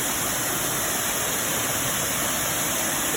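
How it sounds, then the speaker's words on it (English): Steady, continuous rush of the upper falls at Millikin, a sizable waterfall viewed from a small overlook deck, heard up close as a dense, even roar with no voices over it. "this is where you can look down and view the waterfall"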